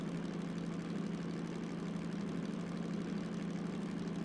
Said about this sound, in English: I know the engine sounds like it's begging for mercy